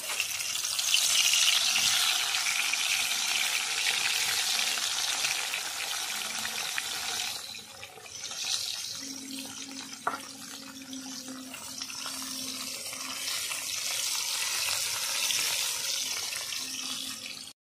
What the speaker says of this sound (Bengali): তেল গরম হয়ে গেছে, ছেড়ে দিচ্ছি মাছ